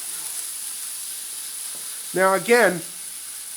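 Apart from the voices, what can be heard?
goetta sizzling while frying in a pan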